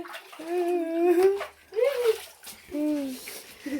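Cold water from an old well is poured in splashing bursts while voices, including a child's, exclaim and laugh over it at close range.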